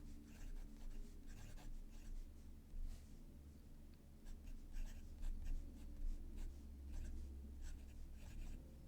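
A Leonardo fountain pen with a broad stock nib ground to a custom shape scratches softly across paper in a steady stream of strokes, faint and close.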